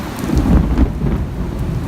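Rain falling on asylum seekers camped at the Brownsville port of entry on the Texas-Mexico border, a dense, continuous patter with low rumbling underneath, fairly loud and steady with no voices.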